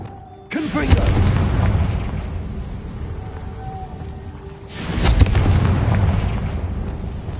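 Two heavy booming blasts from the Confringo spell in the Hogwarts Legacy video game, each a loud, deep explosion followed by a rumbling tail, spaced about four seconds apart.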